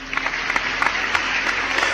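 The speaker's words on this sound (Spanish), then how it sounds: "recibimos también con un gran aplauso y con un apoyo sincero" A studio audience claps to welcome a guest, dense, steady applause with sharp individual claps rising out of it, close and loud throughout.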